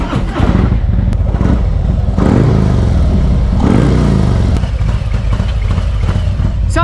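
A motorcycle engine runs loud and close throughout, a rough mechanical roar with clattering that rises and falls slightly, and no talk is heard over it.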